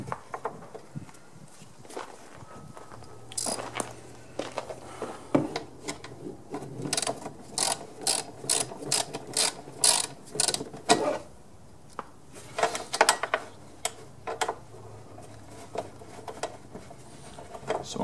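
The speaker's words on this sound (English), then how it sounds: "So I'm just going to unbolt this cover," Ratchet wrench unbolting the cover of a push lawn mower, quick clicking pawl strokes in repeated bursts with occasional metallic handling and shuffling, close and fairly quiet.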